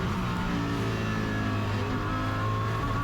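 A race car engine drones steadily on an onboard lap of the Paul Ricard circuit, a loud continuous hum with no pauses or gear changes.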